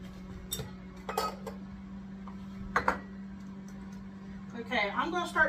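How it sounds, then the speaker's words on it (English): A small metal whisk clinks against the side of a bowl while mixing hot water, giving a few scattered light taps, then a quicker run of clinks near the end; a steady low hum sits underneath throughout. "I have a little whisk here."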